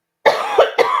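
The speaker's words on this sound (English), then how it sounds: "excuse my coughing." Three quick close-up coughs from a single person in rapid succession after a brief silence, harsh and loud, with no speech around them.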